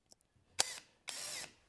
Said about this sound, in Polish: No i lecimy z wkręcaniem.